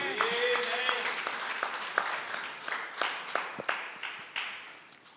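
A church congregation claps and applauds together at a worship service, steady dense clapping with sharper individual claps, mixed with voices and cheers in a reverberant hall.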